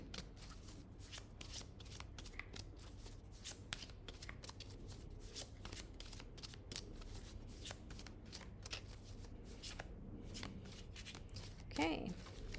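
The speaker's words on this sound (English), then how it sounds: "I'm going to pull one last card." A deck of tarot cards is shuffled and cards are drawn. Quick, papery riffles and flicks repeat steadily and close for a long stretch, with a quiet voice briefly near the end.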